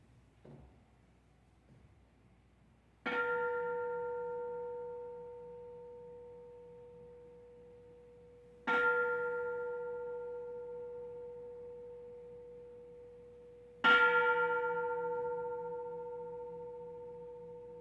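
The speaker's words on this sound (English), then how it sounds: "I will ring the gong at that point and we will commence." A ceremonial gong is struck three times, several seconds apart, to open a 2020 Naropa graduates' commencement ceremony. Each strike rings out clear and full, then fades slowly into a long, shimmering hum in a quiet room.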